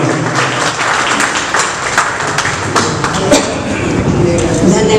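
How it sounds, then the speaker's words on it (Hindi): An audience at a Hindi poetry gathering (kavi sammelan) claps warmly to welcome a speaker, a dense, continuous burst of hand claps close by, steady and sustained throughout. "जोरदार तालियों की गड़गड़ाहट के साथ श्रीमती आभा मित्तल जी का स्वागत करें"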